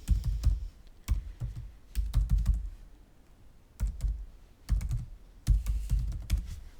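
A password is typed on a computer keyboard in uneven bursts of close, clicky keystrokes. Short pauses separate the runs, and no voice is heard over them.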